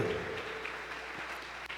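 A congregation applauds in a Pentecostal church service in São Paulo, a steady wash of clapping that stays fairly even and moderately loud for just under two seconds.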